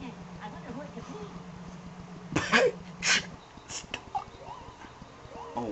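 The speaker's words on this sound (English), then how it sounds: "Oh wow, that was a nasty cough." A couple of harsh coughs burst out over quiet background music in the Nicktoons Unite game's Bikini Bottom level, followed by a few softer sounds.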